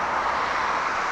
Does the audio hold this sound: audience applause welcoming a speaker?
no